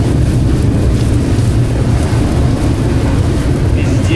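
Strong wind roars over a freight train rolling through the American Southwest near the Mexican border, a loud, steady, low rushing buffet that lasts throughout with no pause.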